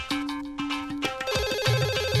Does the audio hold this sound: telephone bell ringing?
yes